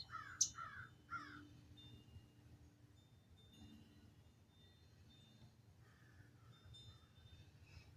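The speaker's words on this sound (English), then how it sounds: "you can hear the birds and you can hear my chimes" Outdoors, a crow gives three quick, faint caws in a row, followed later by a softer call, all far off over a low background rumble.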